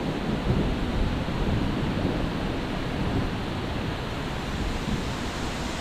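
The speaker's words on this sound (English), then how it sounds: "Rain's coming down quite a bit harder." Heavy rain pours down in a steady, dense roar over a creek, with low rumbling thunder rolling underneath throughout.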